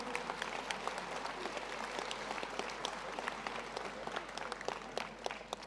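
An audience at a French civic New Year's greetings ceremony applauds steadily, a dense, even patter of many hands clapping throughout, with no voices above it.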